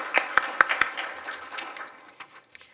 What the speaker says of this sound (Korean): 기조 강연과 기조 연설을 해주신 홍석경 교수님과 장원호 교수님께 뜨거운 박수 드리면서 1부 행사를 모두 마치도록 하겠습니다.